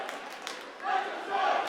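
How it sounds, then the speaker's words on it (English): Arena crowd at an indoor soccer match between the Mississauga MetroStars and Baltimore Blast, led by the MetroStars supporters group in a Viking clap, heard as a loud crowd roar with swelling chants and beats under a busy hall din. "Love seeing that MetroStars Sauga City supporters group coming out, getting the crowd into the Viking clap there"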